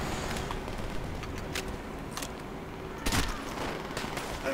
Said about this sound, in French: Il m'a tiré au pistolet alors qu'il était mort